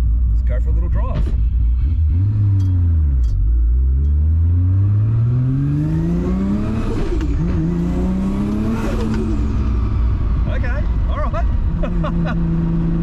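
A Nissan Skyline R32 GT-R with an RB26 engine and NISMO inlet manifold pulls away and accelerates through the gears, engine pitch rising and dropping at each shift, loud and close under steady talk.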